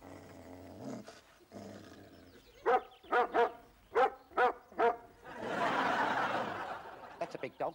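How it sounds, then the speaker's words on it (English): A big dog off its lead barks in a run of six deep, loud, evenly spaced woofs close by, with a rough growly rumble and some voices before and after. "That's a big dog."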